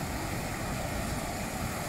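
Big, rough ocean waves and surf at a beach with a strong current, heard as a steady, loud wash of broadband roar with wind noise across the microphone and no talk.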